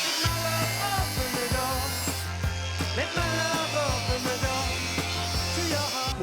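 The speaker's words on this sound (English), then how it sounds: "So I'm going to get the grinder, I'm going to run down that straight as I can." An angle grinder cuts along the tray of a Nissan GQ Patrol ute, giving a close, loud, harsh cutting drone that pulses in a repeating pattern as the disc bites, with no talking.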